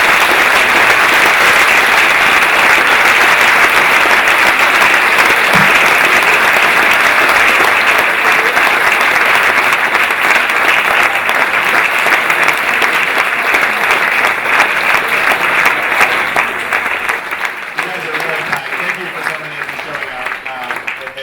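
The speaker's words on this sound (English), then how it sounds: "A big applause, please." Big, sustained applause from a large audience after a campus lecture by the Airbnb co-founder at DLD, thousands of hands merging into a dense roar that holds steady and then slowly thins and fades toward the end.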